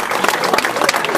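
A short burst of crowd clapping at an outdoor bird of prey show at Burg Kintzheim in Alsace, dense and fairly close, ending abruptly.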